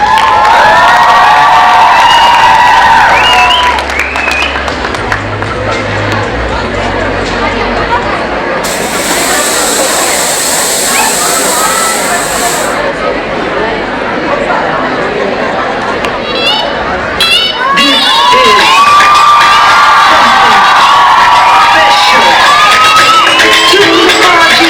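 A large crowd at a college cultural dance event roars with cheering and shouts, children's voices rising over a loud, continuous din that briefly dips mid-way before surging again.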